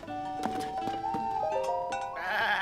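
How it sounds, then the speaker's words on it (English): Goats bleating at a stable in the video game Zelda: Tears of the Kingdom: several wavering, nasal bleats in quick succession, close and clear against a quiet background. "Whoa, look at those. Are those goats?"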